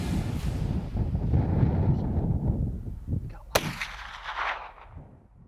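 A single loud muzzleloader rifle shot cracks out during a spring grizzly hunt in snowy Alaska, with wind rumbling on the microphone before it and a fading echo after.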